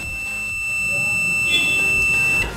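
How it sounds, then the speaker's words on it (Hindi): A UNI-T UT203 digital clamp multimeter in continuity mode sounds its buzzer, a steady high-pitched electronic tone held for about two and a half seconds before cutting off. "बजर के दौरान जब आप इन दोनों पार्ट्स को टच करेंगे तो आपको बजर की आवाज़ सुनाई देगी"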